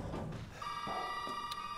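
Telephone bell ringing in the horror video game Resident Evil 7: a steady electronic ring begins partway in and holds over low background rumble, with no talk.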